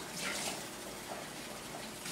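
Hot water pours steadily for pine cone tea, a soft continuous gushing splash, faint and close, with no talking.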